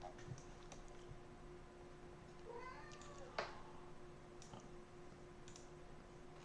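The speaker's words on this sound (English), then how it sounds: "Oh, my cat's here." A cat gives one soft, short meow midway, faint and somewhat distant, against a quiet indoor background with a steady hum and a few light clicks.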